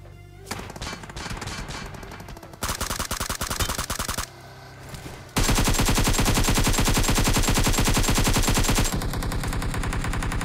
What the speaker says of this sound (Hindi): बस तभी पीछे से फायरिंग का साउंड आया